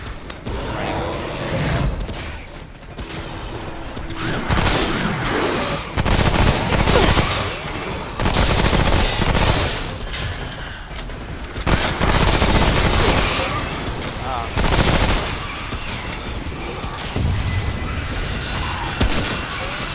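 Rapid bursts of gunfire and mechanical clatter from a firefight against a spider enemy in the video game Remnant, loud and dense throughout, with occasional booms and faint voices underneath.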